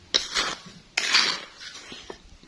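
A metal wok clanks and scrapes against a stove as it is set down to heat, two sharp metallic knocks followed by softer rattling and a few light taps, with no talking.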